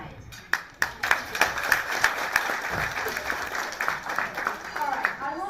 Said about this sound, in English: So just a round of applause for the entire tonight.